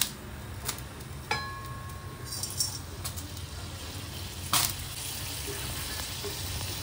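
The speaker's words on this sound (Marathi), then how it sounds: "तर आता मी याच्यामध्ये हे सगळे जेवढे ड्राय आहेत ना ते सगळे मी भाजून घेणार आहे" Dry spices and ingredients roast in a pan with a soft, steady sizzle and hiss, broken by occasional light clicks and scraping taps at irregular intervals. No one speaks.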